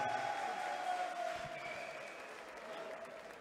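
Applause from the crowd at an Adler FC 2 fight event as the winner is announced, a faint, distant and even patter of clapping under an arena hum, tapering slightly toward the end.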